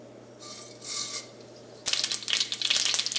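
Mustard seeds spluttering in hot oil while making vegetable oats upma. A quiet rustle comes first, then a dense, crackling burst of popping sets in and keeps going close up to the end.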